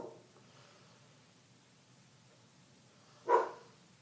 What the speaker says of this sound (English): Sorry, my friend's dog.